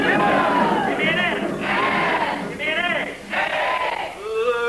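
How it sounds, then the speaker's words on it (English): Audience at a performance show shouting a call-and-response chant, four loud bursts of crowd cheering separated by short pauses. "So let's have a little cheer."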